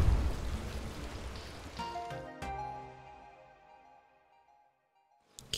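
Rain falls in the video game Eastward, a fairly quiet wash of patter that fades out as tonal chimes ring and then die away, ending in near silence.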